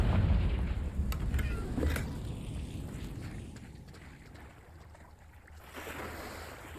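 A Confringo fire spell explodes in the Hogwarts Legacy video game: a loud, rumbling blast with a sharp crack near the two-second mark, then a long roar that slowly fades into a low ambient wash.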